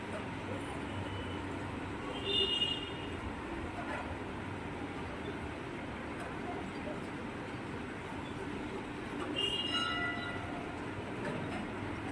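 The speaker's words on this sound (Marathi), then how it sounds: "हे आहे लोकल ट्रेन. हे आली विरारवरून बघा." A local train from Virar pulls into Nalasopara railway station during heavy monsoon rain, a steady rumble of carriages with faint rail clatter and brief higher squeal or horn-like tones, heard from the platform.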